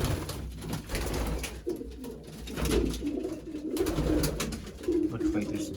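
Racing pigeons in a loft coo steadily in overlapping low, throaty calls, with rustling and a continuous busy background of many birds close by.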